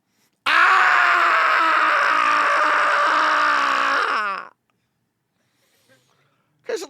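A person lets out one long, loud, sustained scream lasting about four seconds that cuts off abruptly, followed by near silence and a brief faint sound at the end.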